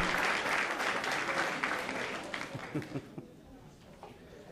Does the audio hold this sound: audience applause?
yes